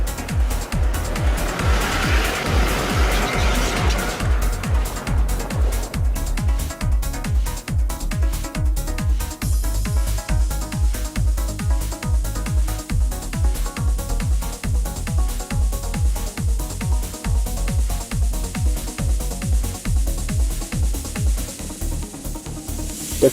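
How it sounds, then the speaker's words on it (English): A car grinding over a rocky desert pass between the dry Hoarusib riverbed and a parallel valley in Kaokoland, its engine labouring steadily with rhythmic bumps and jolts, loud and close throughout, with no voices. "After putting the car to serious test for hours, we leave the Hoarusib river and cross the rocky pass to the parallel valley"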